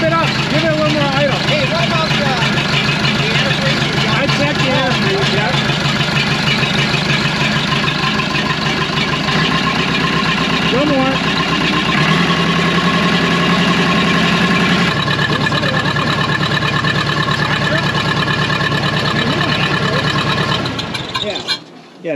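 An old Case 450B dozer, abandoned for fifteen years, with its diesel engine idling in a steady, loud, rough rumble that shifts pitch slightly partway through before cutting off near the end, with people talking nearby.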